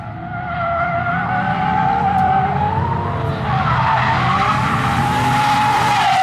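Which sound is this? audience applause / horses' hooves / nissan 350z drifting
nissan 350z drifting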